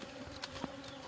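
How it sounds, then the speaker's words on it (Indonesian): Bees buzzing above a stove where Indonesian palm sugar is being cooked, a faint, thin drone with a few brief louder passes close by, no talk. "Banyak lebah di atas."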